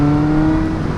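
Fazer 600 motorcycle engine with its exhaust cut in two, running as a steady, loud, even hum with a strong low tone and no change in pitch.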